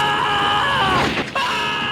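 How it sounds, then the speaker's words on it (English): A shrill, sustained scream from a Back to the Future film scene rises and wavers, then breaks off abruptly and resumes, loud and close. "The result? Lots of screaming."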